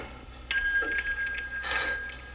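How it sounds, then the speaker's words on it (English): A bell clangs in a scene from a Bonanza episode, two bright ringing strikes about a second apart, close and clear, with no voices over it. "So this is where we hear the bell, of course."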